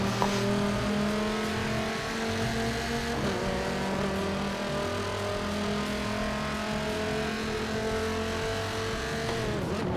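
Race cars roaring around the Hockenheimring in Forza Motorsport 7, including a McLaren Senna, with sustained loud engine drone and shifting revs close up, continuous throughout with no talk.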